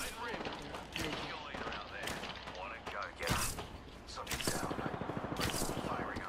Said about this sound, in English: Where the fuck is he shooting from?